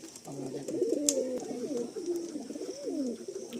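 A red Giribaj pigeon in a loft gives repeated soft, throaty coos in a rolling series, close and clear over a quiet background.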